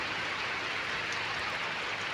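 Heavy rain pours steadily onto rice paddies in the countryside, a dense, even hiss of drops close by with no voices over it.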